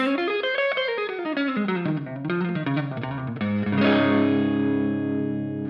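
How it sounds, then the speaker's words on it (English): An electric guitar plays a descending distorted phrase, then lets a chord ring out with a spacious, open reverb tail simulating a loft. "The reverb in this case was a simulation of a loft, very nice and open."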